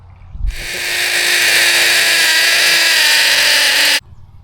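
A power drill with a large bit whirs steadily for about three and a half seconds at high speed boring a hole in concrete, loud and close, then cuts off abruptly.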